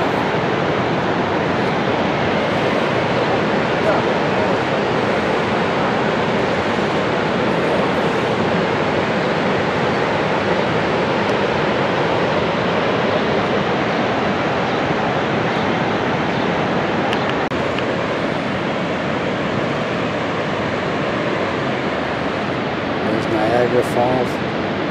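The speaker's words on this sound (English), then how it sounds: "Niagara Falls on the Canada side in Niagara." Niagara Falls roaring on the Canadian side: a loud, steady wall of rushing water that holds an even level for the whole stretch, close and unbroken.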